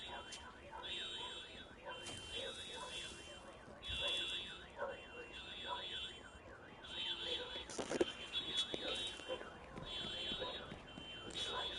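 Car alarms wail outside, their warbling, cycling tones repeating steadily in the distance under bursts of talk and background noise, heard right after a loud blast outdoors.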